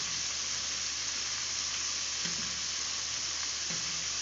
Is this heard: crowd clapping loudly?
no